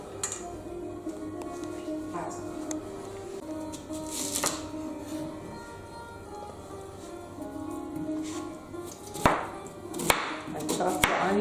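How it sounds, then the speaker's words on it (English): An onion chopped into small pieces with a knife on a board for Persian stuffed cabbage dolma, a run of quick, light, uneven taps and clicks, close and fairly soft, with a voice talking over it. "I chop the onion in a small size."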